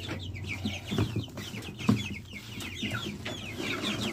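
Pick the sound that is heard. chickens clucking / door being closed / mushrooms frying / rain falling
chickens clucking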